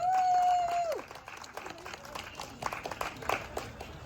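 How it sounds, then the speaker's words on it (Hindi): A standup comedy show audience claps for the organizers; a sustained tone fades out first, then scattered, uneven clapping follows, fairly quiet and sparse. "तो एक जोरदार तालियां हो जाए उनके लिए।"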